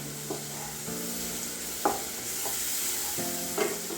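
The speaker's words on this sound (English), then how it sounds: "Add pickle masala. Mix well." Mango pickle being mixed with pickle masala, a few soft scraping and stirring strokes against a quiet background hiss, with no talking.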